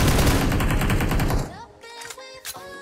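Automatic gunfire from a PUBG Mobile squad match: a loud, dense rapid burst for about a second and a half, then a pause and a few scattered sharper shots, close and loud.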